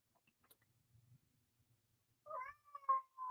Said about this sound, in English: Daggum cats, they're like little speed bumps